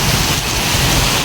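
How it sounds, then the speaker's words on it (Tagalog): Heavy rain suddenly pouring down on a barangay street, a dense, steady broadband hiss of downpour filling the scene with no voices. "Biglang bumuhos ang ulan."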